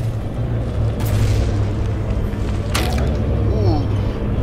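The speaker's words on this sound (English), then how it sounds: "it is just constantly getting hit by barrage after barrage of shells" Heavy shells from a naval barrage strike a battleship in From The Depths, giving repeated deep booms with sharp crack-like impacts near 1 and 2.8 seconds over a steady rumbling engine-and-water bed.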